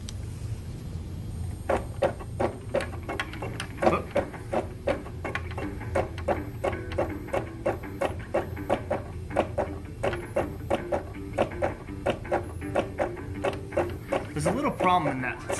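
A robotic labyrinth game machine runs after being started, its mechanism ticking and clicking in a steady repetitive rhythm with whirring motor sounds, moderately loud and close throughout.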